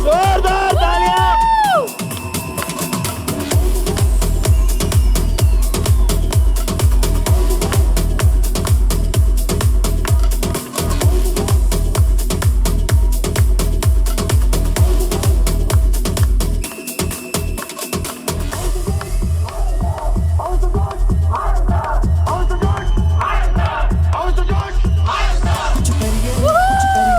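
A corporate big-day event audience cheers, whoops and yells loudly and continuously for nearly half a minute, the crowd noise mixed with a driving rhythmic music beat throughout.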